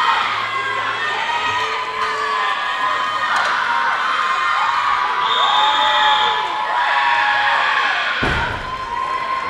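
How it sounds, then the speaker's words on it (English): Large crowd cheering and shouting at a world classic powerlifting championship, a continuous loud roar with whistles and bangs mixed in. "The crowd is going crazy here this afternoon."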